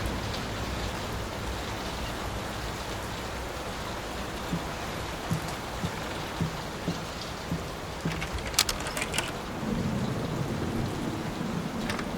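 Steady rain falls throughout in the horror game Layers of Fear, a dense even patter with a few sharper drips and taps breaking through near the end, no voices.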